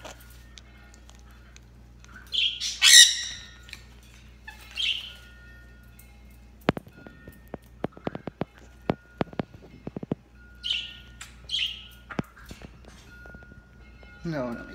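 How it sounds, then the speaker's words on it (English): A pet bird gives a few short, bright squawks and chirps close by, with some scattered clicks and taps and a faint hum underneath. "That's a pretty bird."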